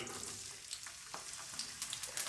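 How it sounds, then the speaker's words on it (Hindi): Onions sputter and crackle in hot oil in a kadai, a continuous fairly faint sizzle with occasional sharper pops and light stirring, heard close with no talking. "तो ऑयल गर्म हो गया है तो अभी इसके अंदर प्याज ऐड कर दी"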